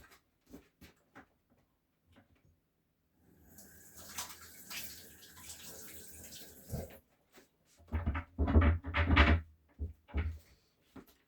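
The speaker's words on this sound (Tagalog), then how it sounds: "Maghugas muna ako ng kamay." Hands washed under a running kitchen tap, water gushing steadily for several seconds amid quiet surroundings, followed by a few sharp clattering knocks and handling sounds.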